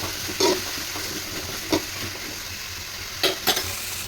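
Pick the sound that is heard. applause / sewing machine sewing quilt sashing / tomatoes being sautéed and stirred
tomatoes being sautéed and stirred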